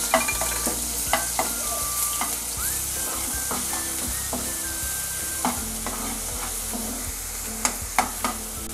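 Bay leaves and ginger-garlic paste fry in hot oil for a Koli-style dry petha kaleji, giving a steady close sizzle with intermittent scraping clicks from stirring throughout.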